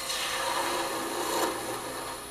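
A 3/8-inch fingernail-grind spindle gouge thins a long, slender wooden finial spinning on a lathe, giving a continuous close scraping hiss of the cut, brief and steady.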